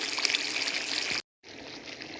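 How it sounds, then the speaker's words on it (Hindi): Water pours steadily into a cooking pot for sobat, a soft, even trickle with a brief break partway through before it resumes. "अब मैं ऐड करने लगी हूँ पानी।"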